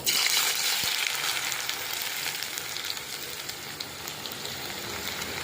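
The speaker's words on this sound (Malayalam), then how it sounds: "അത് നമുക്ക് എണ്ണയിലേക്ക് ഇട്ട് കൊടുക്കാം" Beetroot slices crackle and sizzle loudly in hot coconut oil, bursting at the start and then settling into a steady, fizzing fry with no talking.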